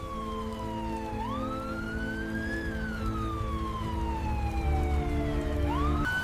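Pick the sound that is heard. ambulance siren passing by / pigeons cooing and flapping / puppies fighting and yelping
ambulance siren passing by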